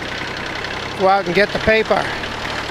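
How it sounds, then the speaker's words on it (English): A tractor engine runs steadily as a low, even idle throb beneath a man's close, loud speech. "Alright, the tractor's running."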